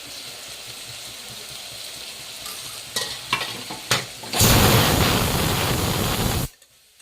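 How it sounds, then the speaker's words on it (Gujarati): Cluster bean curry is tempered in a pan, with a few scrapes and clinks of stirring before a loud hissing sizzle erupts for about two seconds and then cuts off. "દાળ મૂકી છે શાક વઘારાય છે"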